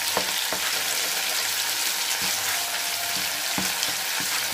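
Tomato paste sautéing with onion and garlic in a pan gives a steady, bright frying sizzle, broken by occasional soft knocks of stirring. The sound is close and continuous, with no voices.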